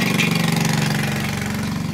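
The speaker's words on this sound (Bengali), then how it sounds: "এই মহিলাটি সুন্দর বাইক চালিয়ে ওপরে উঠছে" A motorcycle engine runs steadily with a low, throbbing hum, close and continuous, slightly labored as it climbs uphill in Mizoram.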